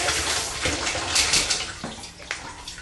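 Tap water runs steadily into a bathroom sink during cleaning, a close continuous gushing splash with faint clatters and no talking.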